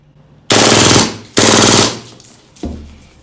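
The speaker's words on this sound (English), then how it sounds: "Now we're going to switch over to full auto and see how many rounds per second we can get." A G&G SMC-9 gas blowback airsoft gun fires on full auto at close range: two loud, rapid bursts about a second long each, then a shorter final burst.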